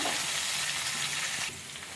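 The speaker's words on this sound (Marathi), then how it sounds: "आता याला छानपैकी आपण फ्राय करून घेऊया." Mushrooms with coriander fry on a hot tawa, giving a steady close sizzle that eases slightly near the end of the short stretch.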